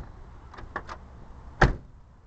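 A 1968 Camaro door shuts with a solid, close thump after a few light clicks and rattles of the latch.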